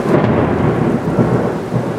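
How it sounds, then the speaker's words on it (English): Thunder during a thunderstorm: a loud, deep, continuous rumble with rain falling, close and heavy, with no voices. "And the thunder is shaking the ground."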